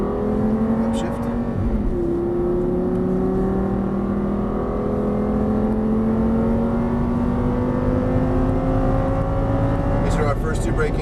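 An Audi R8 accelerates hard along a race track in Las Vegas. Its engine roars loudly and close, the pitch climbing steadily through the gears and dropping briefly at each upshift.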